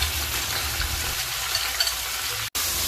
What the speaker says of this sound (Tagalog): Haluin po natin ang karne at antayin natin ito hanggang magkulay brown.